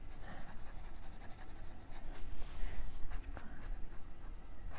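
Pen nib scratching continuously across paper while coloring in a fantasy coloring book, a close, steady rasping texture that swells slightly in the middle, with no voice.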